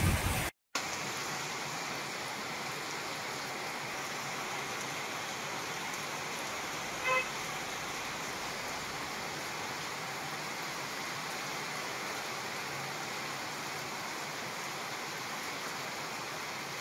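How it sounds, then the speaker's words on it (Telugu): Heavy cyclone rain falls across Warangal district as a continuous, even hiss of downpour, fairly faint and unbroken, with one brief soft knock early on. "భారీ వర్షం కురుస్తోంది."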